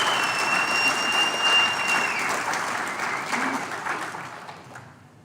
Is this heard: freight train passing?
no